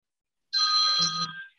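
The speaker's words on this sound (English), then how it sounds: "I recognise the ringtone." A single short electronic ringtone tone chimes clearly from a mobile phone, bright and sustained for about a second, then stops.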